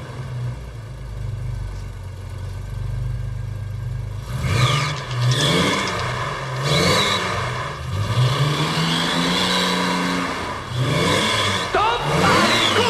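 An old carburetor car engine idles roughly, then is revved repeatedly in a workshop, each blip rising and falling in pitch, loud and close with people talking in French over it.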